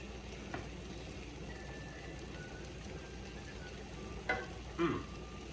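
Cabbage sautéing in a pan for colcannon gives a steady low sizzle and frying hiss throughout, with a couple of brief louder stirring scrapes near the end and no talking.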